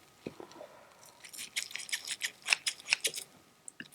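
Scissors cutting through a thin sheet of crinkly tin foil, close and quiet: a quick run of sharp snips and crinkles, a few isolated clicks before and after, no voices.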